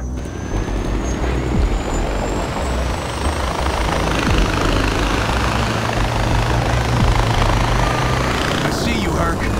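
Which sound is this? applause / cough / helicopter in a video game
helicopter in a video game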